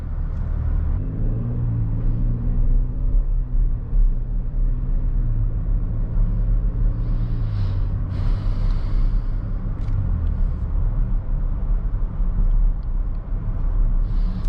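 Cabin of a 2021 Chevrolet Traverse on the road: a steady, loud low engine rumble and road roar that rise and fall slightly with throttle, continuous throughout with no talking.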